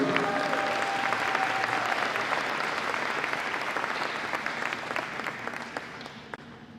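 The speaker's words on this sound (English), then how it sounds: "One last round of applause here." Crowd applause at a handball tournament opening ceremony, loud steady clapping from many people that gradually fades, with a brief whistle-like tone early on.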